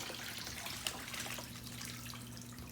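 A running hot tub water feature gives a steady splashing, trickling flow with a low pump hum beneath, continuous and moderately close.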